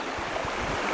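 Fast-flowing river water rushing steadily around a wader crossing a trout stream in summer, a dense, continuous broadband wash close to the microphone with no voices.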